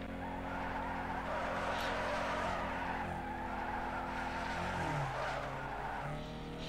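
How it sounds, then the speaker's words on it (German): Car drifting in Need for Speed Underground 2, a sustained tire squeal and skid over a steady engine drone, with a pitch drop in the engine near the end. "Ich tippe nur Bremse an und ihr seht, wir können driften wie ein junger Gott."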